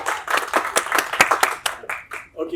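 An audience at an event gives a round of applause, with dense, crisp hand claps in uneven bursts that thin out toward the end, fairly near and loud.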